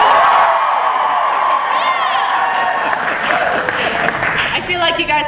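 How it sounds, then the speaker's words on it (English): Crowd applause with cheering and whoops swells from an audience, loud at first and then mixed with excited voices and shouts toward the end. "you put up your hands and the crowd goes wild!"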